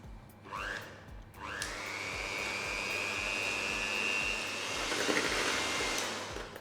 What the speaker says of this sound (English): we're going to start whisking this together on a low speed for a couple of minutes until everything is combined